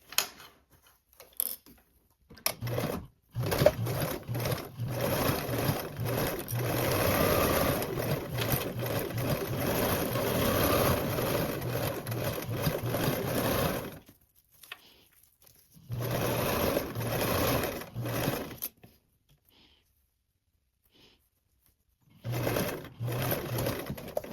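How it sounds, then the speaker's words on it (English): Sewing machine basting an elastic band onto mesh fabric, running in steady mechanical bursts with short pauses between seams, close and fairly loud with no talking. "Now you can go ahead and baste your elastic band on and then down around your mesh."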